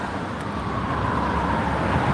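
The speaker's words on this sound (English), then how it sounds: "All these cars, that noise is irritating the shit out of me." Steady car traffic rumbles across a New York bridge, a dense, continuous roar of passing vehicles that stays loud and unbroken throughout, with no voices on top.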